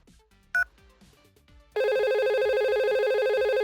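VoIP phone on a simulated network starts ringing with a loud, steady electronic ring tone after a brief beep and faint background noise.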